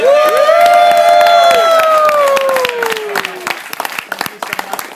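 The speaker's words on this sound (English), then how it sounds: "One more round of applause." Audience at a magic show bursts into loud applause with cheering and whooping voices, a sustained rising shout over dense clapping that gradually thins into scattered claps.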